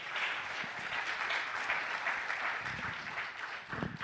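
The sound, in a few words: round of applause for the panel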